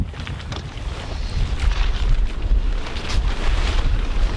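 Strong wind buffets the microphone on a sailboat in a dense, continuous roar, with gusts rising and falling over water and no voices.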